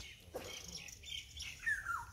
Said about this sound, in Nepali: पहेँलो कलरको चरा